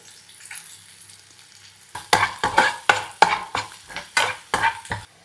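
Onion and chopped garlic fry in butter in a pan while a bok choy dish is cooked. A faint sizzle comes first, then about nine sharp, rhythmic stirring scrapes.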